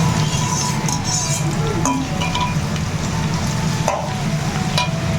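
Garlic and onion fry in oil with a loud, continuous close sizzle, broken by a few stirring scrapes and light clinks, with no clear speech.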